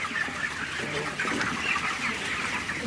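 Many chickens cluck continuously inside a poultry farm where birds are raised for meat, a dense, busy flock chorus at steady moderate loudness with no voices.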